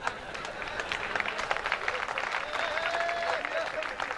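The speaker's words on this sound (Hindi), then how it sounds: "तालियां कमजोर है मित्रों आपकी" Applause from the audience at a Hindi comic poetry gathering, a steady, moderately loud patter of many hands throughout, with a murmur of voices mixed in.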